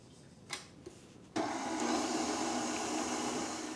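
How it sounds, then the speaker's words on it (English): A stand mixer fitted with a paddle attachment beats butter until smooth, switching on with a sudden steady whirring drone after a couple of faint clicks, then running continuously at close range with no talk. "I'm going to use the paddle attachment on my mixer to beat the butter just until it's smooth"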